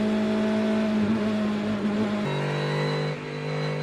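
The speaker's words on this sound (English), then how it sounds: "We can hear a huge amount of understeer for Verbiche on the exit" Race car running wide through a corner at Road Atlanta during an IMSA six-hour race, a steady loud engine drone with tonal whine that drops in pitch twice as the car slides and backs off, close and continuous.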